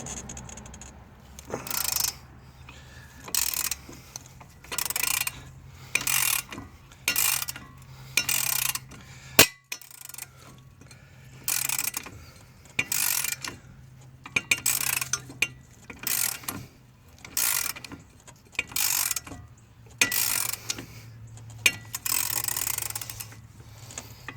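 A hand ratchet clicks in repeated rapid bursts while removing nuts during a 2.0-litre engine and transmission replacement on a 2004-era Suzuki Forenza, with short pauses between strokes and a faint low hum underneath, no talking.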